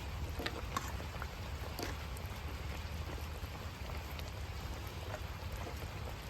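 Gentle drizzle falls outdoors at a village cooking area, making an even, soft patter with a few brighter drop ticks and no voices.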